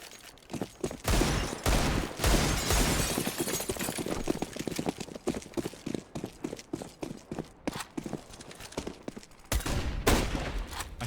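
Gunfire in Counter-Strike on the Train map: dense bursts of sharp shots and clattering impacts, loud and close, in rapid irregular volleys with brief gaps, no talk.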